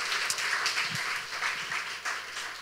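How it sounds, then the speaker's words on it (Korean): A church congregation claps together in steady, moderately faint applause to encourage its leaders, a continuous patter of many hands lasting the whole stretch. "이 시간 우리 리더들을 위해서도 한번 큰 박수로 좀 격려했으면 좋겠습니다."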